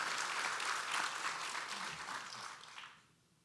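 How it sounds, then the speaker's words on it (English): Guests at a Marine Corps birthday ball give a round of applause for the guest of honor, a brief burst of crowd clapping that fades out after about three seconds. "So absolutely, a round of applause, Meet, and thank you very much for coming and being our guest of honor."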